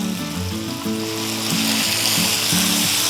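Chicken chow mein with sauce and vinegar sizzling loudly in a pan over medium flame, a dense continuous hiss with periodic scraping strokes of stirring, close up.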